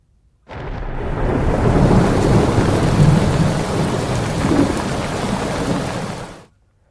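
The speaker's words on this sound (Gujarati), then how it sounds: "અને હવે વાત મુંબઈમાં મુશળધાર વરસાદની" Heavy, torrential monsoon rain in Mumbai pours down steadily with deep rumbling thunder rolling underneath, loud and continuous for several seconds before cutting off.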